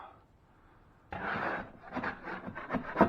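A scraper dragging over rough, painted drywall mud on a patio ceiling, a sudden loud gritty scrape that continues in uneven rasping strokes, close by.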